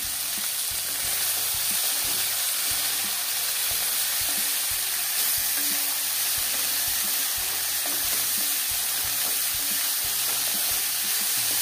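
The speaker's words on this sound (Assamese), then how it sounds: "নৰসিংহ পাত, আলু আৰু এৰী পোকটো ধুনীয়াকৈ ভাজি ল'ম" Naraxingha leaves, potatoes and eri silkworm pupae fry in hot oil with a dense, even sizzle, broken by frequent stirring clatter and soft knocks throughout, and no voices.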